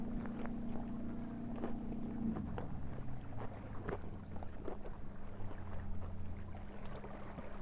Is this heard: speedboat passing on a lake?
yes